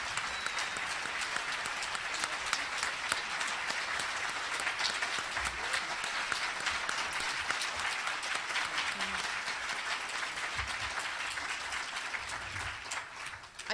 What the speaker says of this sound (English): one final round of applause for all of the speakers here, distinguished panel